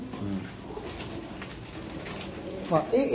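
Kabji pigeons in a loft give soft cooing calls over a steady murmur of background noise, with a brighter burst of bird sound near the end.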